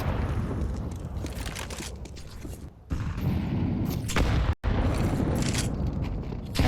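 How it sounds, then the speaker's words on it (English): Grenades detonate in a Counter-Strike esports match, heavy booming blasts merged with gunfire into a dense, sustained roar broken by two brief drops. "Nades both ways."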